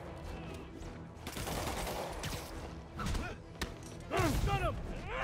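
Gunfire from enemies in Spider-Man Remastered, with scattered shots and thumps among busy combat effects and web-swinging noise; bursts come in uneven clusters at moderate loudness, with a louder flurry near the end.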